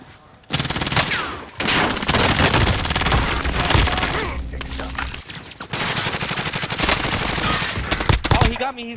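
Video game gunfire rips out in loud, sustained automatic bursts with booming shots, broken by a few short pauses, all close and dense.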